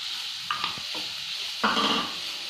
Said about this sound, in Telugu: ఆనియన్ కొంచెం ఫ్రై అయిన తర్వాత క్యాప్సికమ్ ముక్కలు